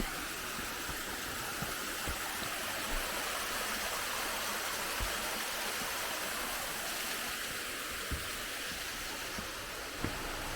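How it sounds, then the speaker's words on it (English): A small waterfall on a North Carolina hiking trail makes a steady, soft broadband rush of falling water, continuous and unbroken, with faint low thumps beneath. "That's a nice little waterfall."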